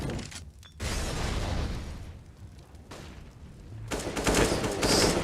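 Pistol gunfire during a Counter-Strike match between SK and Renegades: dense overlapping bursts of shots and loud reports, with brief lulls, then a heavy final barrage, all loud and close.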